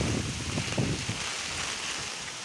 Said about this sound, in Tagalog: So, napakalakas ng hangin.